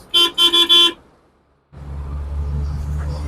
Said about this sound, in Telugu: హార్న్ కూడా పనిచేస్తుంది ఫ్రెండ్స్